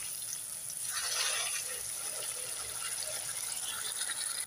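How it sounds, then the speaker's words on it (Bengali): Water pours steadily into crab curry in a pan, a continuous close splash and gurgle that swells briefly near the start and then runs on evenly. "এবার দিয়ে দেব জল"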